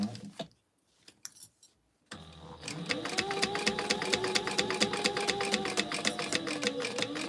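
A domestic sewing machine stitches a pleated fabric corner, with a few short starts and pauses and then a steady, rapid run of mechanical clicking up close. A voice speaks briefly near the start.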